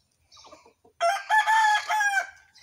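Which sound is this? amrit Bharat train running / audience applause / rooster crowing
rooster crowing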